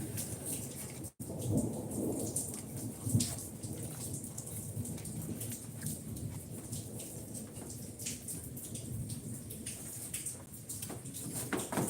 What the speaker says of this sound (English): We had ourselves a whole bunch of damn hail coming down for a hot minute there.